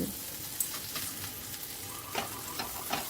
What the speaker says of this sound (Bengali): এইভাবে ওলট পালট করেই কিন্তু আমার নাস্তাগুলো ভেজে নিতে হবে